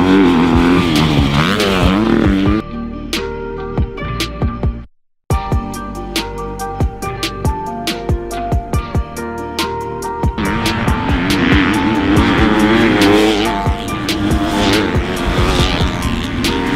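A Honda CRF250 motocross bike revving hard on a track, its loud buzzing engine rising and falling through gear changes, with a brief cut of silence midway and sharp popping transients.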